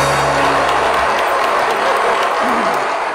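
A studio audience at a late night talk show breaks into loud, steady applause and cheering that fills the room for a few seconds.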